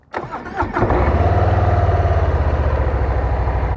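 A 2024 Harley-Davidson Softail Standard motorcycle cranks with a few quick starter bursts, then fires up into a loud, steady, throbbing idle close by, with no talking.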